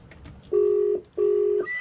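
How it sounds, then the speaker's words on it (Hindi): A telephone dials a doctor's number: two long, loud, steady push-button tones, each close to half a second, separated by a short gap, then a higher tone begins. "अब उसी डॉक्टर को फोन मिला रहे हैं हम"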